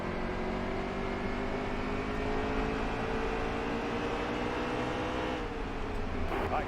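Stock car engine in the NASCAR Heat 3 racing game at Bristol, Xfinity Series, a continuous steady drone with sustained tonal harmonics, held at near-constant level with a slight pitch shift near the end.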